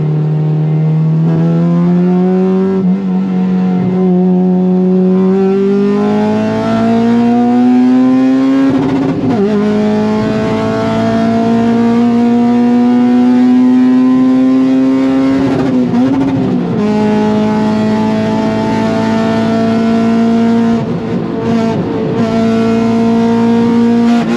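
A supercharged Acura RSX Type S roars loudly and continuously while racing a Supra, its exhaust note climbing steadily through the gears with brief dips at each shift, sustained and close throughout.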